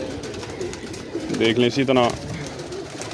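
Pigeons coo in a breeding setup, soft and low beneath someone talking close by, with the calls swelling briefly near the middle.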